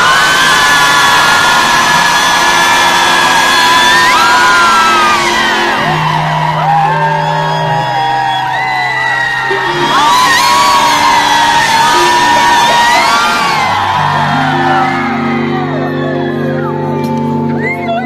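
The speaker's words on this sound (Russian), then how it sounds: "можно будет очень громко кричать" A concert crowd at VK Fest in Ufa shouts and screams loudly, the rising waves of massed voices layered over pounding bass notes and music from the stage.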